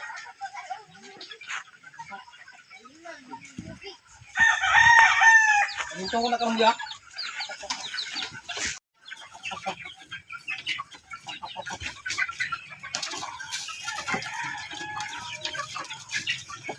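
Someone's chickens being fed, clucking steadily with a loud rooster crow rising above them partway through, close by, while people talk over the flock.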